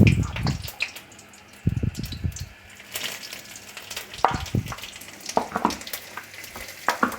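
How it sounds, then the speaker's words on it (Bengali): Panch phoron and whole spices with bay leaf and dried red chillies crackle and sizzle in hot oil for a fish curry with drumsticks and potato, loud bursts of spitting up close between quieter stretches, with light stirring and no talk. "আর দিয়ে দেবো একটু পাঁচ ফোড়ন"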